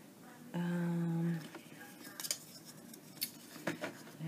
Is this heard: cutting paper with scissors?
yes